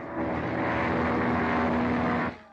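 Airplane engine drone used as a sound effect in a radio drama, a steady loud broadband roar with a sustained hum that holds for about two seconds and then cuts off.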